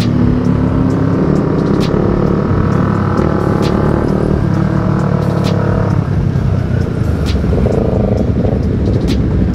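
A Suzuki Satria FU motorcycle on a test ride around Bogor, Indonesia, its engine droning loud and steady up close, pitch rising and falling with throttle changes, over constant wind and road rush with a few sharp clicks.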